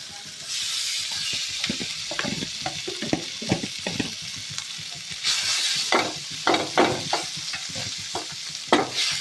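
Food fries in a pan with a continuous sizzle, broken by repeated scraping and clattering stirs that come in uneven bursts, close and moderately loud.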